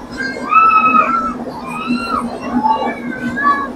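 Train passengers in a general coach on the Visakhapatnam to Araku line shouting together as the train enters a tunnel. Loud, rising and falling whoops and cries overlap one another throughout.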